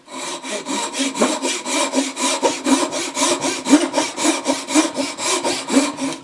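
A Japanese-style pull saw cuts down through wood along a marked groove in a fast, even rhythm of rasping strokes, about three per second, close and loud with no talk.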